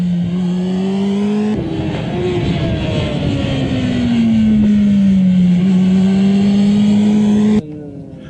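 A motorcycle on a race track accelerates through a corner, its loud engine tone swooping down and climbing back as the throttle reopens, close and continuous before cutting off abruptly near the end.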